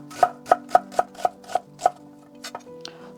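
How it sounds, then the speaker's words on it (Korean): A knife chops a quarter of an onion on a cutting board in seven crisp, evenly spaced strikes, close and clear. A couple of softer taps and a scrape follow. "양파 4분의 1개 썰어 주세요."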